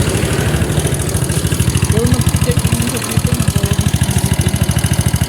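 A Honda Click 150 scooter engine running noisily, a loud, close, rapid steady chugging with a rough knocking rhythm throughout, and people talking over it.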